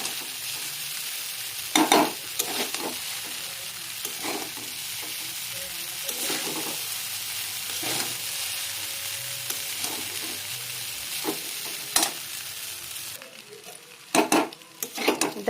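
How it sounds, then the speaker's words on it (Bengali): Chow mein noodles and vegetables fry in a pan with a constant loud sizzle, and a utensil knocks and scrapes the pan in repeated strokes during stirring, close up with no talking. "একটু ভালো করে সবজির সঙ্গে মিক্স করে নেব।"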